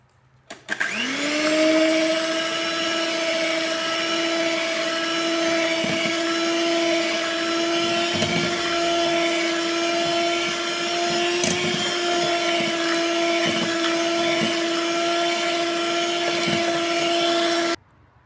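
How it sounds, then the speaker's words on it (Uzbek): An electric mixer beating honey cake batter runs at a constant high whine after a brief spin-up, loud and steady for about sixteen seconds, then cuts off, with no talk. "uni ham bitta mikserga olamiz"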